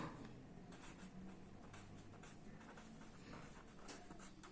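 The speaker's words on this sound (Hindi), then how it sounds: "तो वही चीज लिख रहा हूं" Chalk or marker scratches across a classroom board during an irrigation-methods lecture, a run of faint, quick strokes in a quiet room with no voices.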